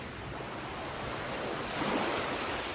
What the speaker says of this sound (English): the sounds of the waves washing in and washing out